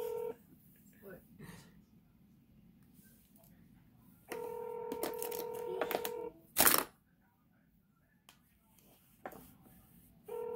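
Telephone dialing tones sound while a call is placed: a steady tone joined by short beeping key presses, then a sharp burst, with quiet voices around.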